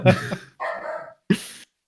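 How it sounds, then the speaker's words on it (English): A dog close by lets out three short, sharp barks with brief pauses between them, loud and alone in a quiet room. "My dog's really upset at me. He's like screaming the answer."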